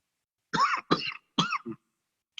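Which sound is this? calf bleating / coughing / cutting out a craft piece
coughing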